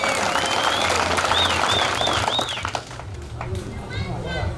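Crowd applause and cheering at a political rally in Mbeere North, with a dense wash of clapping and a few whistle-like calls rising over it, loud at first and easing slightly toward the end while voices talk underneath.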